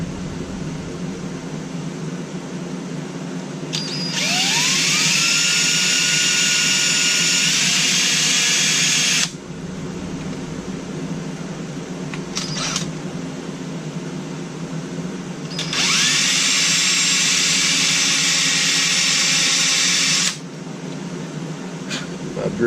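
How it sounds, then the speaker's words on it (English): Two long bursts of a high, whining power drill with a worn bit boring into a wooden tobacco pipe, each about five seconds, with a low background hum between them. "drill bit appears to be wore out"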